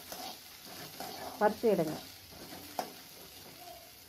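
Onions sautéing in hot oil in a pan while cooking Tamil pudalangai kootu, a steady close sizzle with stirring scrapes, and a voice speaks briefly over it.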